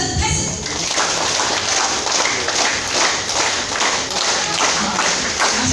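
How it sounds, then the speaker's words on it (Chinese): Applause from a crowd at a festival drum and lion dance performance, dense rhythmic clapping that carries steadily throughout, close and fairly loud, with some voices mixed in. "掌声开始。"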